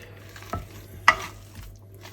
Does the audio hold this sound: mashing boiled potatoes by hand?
yes